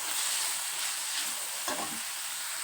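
Egg fry masala with turmeric and garam masala being stirred in a pan, a close, steady sizzle with one distinct spatula scrape partway through and no voices.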